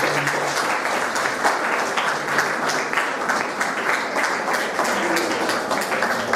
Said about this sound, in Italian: un applauso ai ragazzi